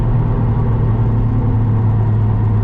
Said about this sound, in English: that's full throttle.